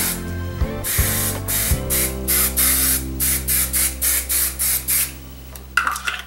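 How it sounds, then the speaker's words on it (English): A run of about ten short, hissing bursts of Sebastian Reshaper hairspray sprayed onto hair in a steady rhythm, close and fairly loud, with faint music underneath and a final sputter. "she said not to spray your bangs with your hairspray. But spray everything else."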